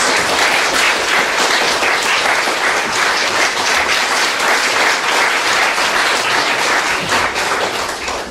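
An audience applauds at an outdoor Chopin concert on the Bug river, with dense, sustained clapping from a large crowd that stays loud and even throughout before tapering slightly at the end.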